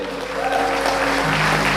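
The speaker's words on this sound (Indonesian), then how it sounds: "Beri tepuk tangan dulu." A crowd claps together in dense, continuous applause that holds steady for a couple of seconds.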